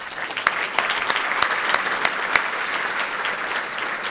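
An audience at a county State of the County address applauds visiting congressional representatives, sustained clapping from a large crowd with a few sharper claps standing out, even and fairly loud throughout.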